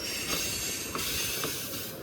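Norfolk Southern freight train with coal hopper cars rolling past, a faint steady rumble of wheels on rail with light rhythmic clicks and a brief squeal.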